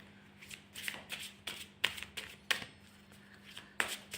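Twin flame oracle cards being shuffled by hand produce a quiet, close series of soft riffling whooshes and crisp card slaps, repeated in an uneven rhythm about every half second.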